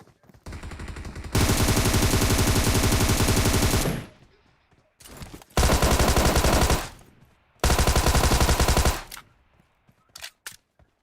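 PUBG Mobile gunfire sounds in loud, sustained automatic bursts, three long volleys each lasting a few seconds and separated by brief pauses, followed by a few scattered single shots, close and dominating the mix.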